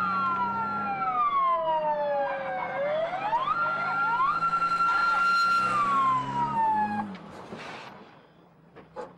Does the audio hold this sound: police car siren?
yes